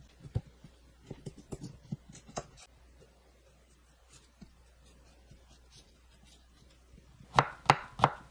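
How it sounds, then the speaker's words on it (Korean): Cucumber sliced thinly with a knife on a cutting board, quick irregular taps and thuds in bursts, close and fairly quiet, ending in a louder run of firm chops; no one speaks. "얇게 썰어주세요."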